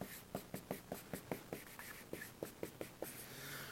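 Pen or marker strokes written by hand during an algebra lesson on trigonometric reciprocals, a quick run of rhythmic scratchy strokes up close and quiet, then a short pause and another run of strokes.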